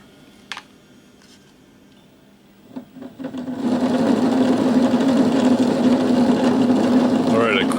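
Electric motors of a 5-inch gauge locomotive turn over at minimum throttle: after a quiet start with a few light knocks, a steady, moderately loud motor hum and whine builds in and holds to the end.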